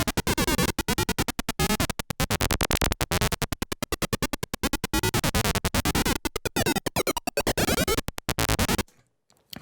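A Behringer Neutron synthesizer plays a dark forest lead: a loud, dense, buzzy tone chopped into fast rhythmic pulses with sweeping modulation, running continuously for nearly nine seconds before cutting off abruptly into silence.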